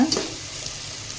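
Onions frying in a pan while being stirred, a brief soft sizzle with a scrape or two of stirring at the start, fairly quiet and steady, with no voices.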